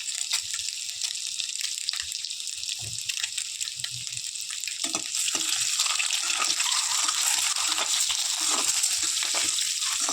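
Sliced eggs frying in oil seasoned with salt, chili powder and turmeric, making a bright, continuous close sizzle that grows a little louder in the second half, with no voices.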